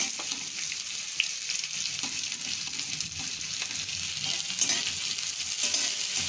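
Onion fries in a pan over medium heat, giving a continuous close crackling sizzle with light stirring scrapes and no talk.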